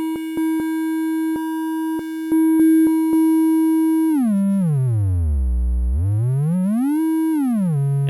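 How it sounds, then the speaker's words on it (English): An analog synth LFO is swept up into the audible range so it acts as an oscillator: a loud, steady buzzy tone that clicks at first, then glides low, dips to a deep growl, and rises again, alone throughout. "you can hear that this LFO can basically be converted into an oscillator"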